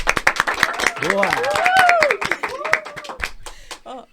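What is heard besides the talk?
audience applause for a guest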